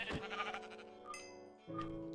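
Sheep in the video game Minecraft give two short, close bleats, one at the start and another near the end, each with a wavering nasal tone, over quiet game sounds and no talk.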